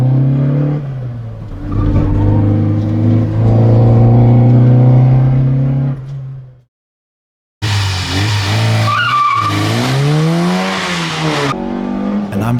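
An A112 Abarth race car on a hot lap, its engine loud and revving hard with tire squeal, then a brief silent gap before the engine returns with rising and falling revs and squealing tires.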